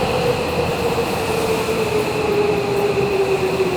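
Steady, loud rumble of a Tokyo subway train in motion, with constant wheel and track noise and a faint high whine running throughout, heard from inside the carriage.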